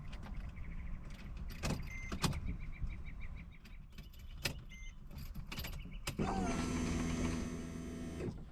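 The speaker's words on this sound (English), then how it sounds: "the fuel pump only hums for 1 to 2 seconds" On a Mercedes E320 W211, a key clicks through positions and the fuel pump answers with a brief electric hum, followed by a louder whirring mechanical buzz near the end, all close and quiet.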